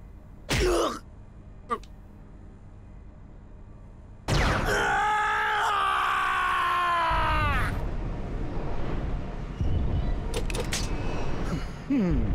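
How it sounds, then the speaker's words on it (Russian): An enemy in the Tales of Vesperia video game lets out a drawn-out, falling scream lasting a few seconds, set among short bursts of game effects and a steady background hum. "Какой миленький крик он издал."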